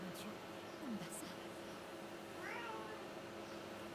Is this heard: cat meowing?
yes